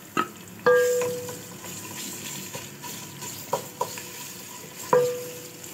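Onions frying in a pan with water, garlic and ginger added: a soft, steady sizzle broken by several sharp stirring clinks and scrapes of a utensil against the pan.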